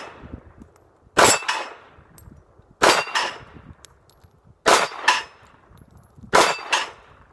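A SIG Sauer P238 pistol fires Fiocchi ball ammunition at steel plates. Sharp shots come in pairs, each followed by a ringing metallic clang from a hit plate, in four evenly spaced bursts.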